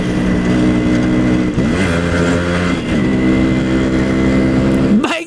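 A restored Yamaha RX-100 motorcycle, around twenty years old, runs with a loud, steady engine drone that shifts pitch as it rides, then revs up sharply near the end.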